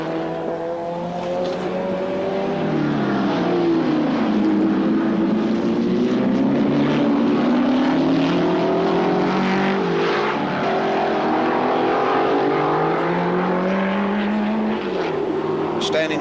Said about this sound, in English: you can listen to this sound, this marvellous Desmodromic straight 8 Mercedes-Benz